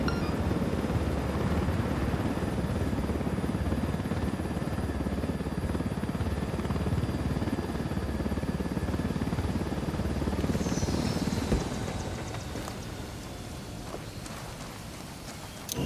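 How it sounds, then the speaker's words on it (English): A helicopter in the video game Ghost Recon Wildlands gives a steady, loud rotor roar that holds close and unbroken, then eases to a lower, quieter rumble for the last few seconds. "Nothing like swiping a helicopter to bring a day into focus."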